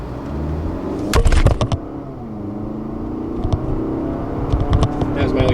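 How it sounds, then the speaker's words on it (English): A 2022 Lexus ES 250 F Sport AWD four-cylinder engine revs briefly while driving, a low steady rumble rising in a short burst of throttle, then settling back, with a few sharp knocks and bumps near the end. "I'm going to hit a little bit just to listen to the engine noise"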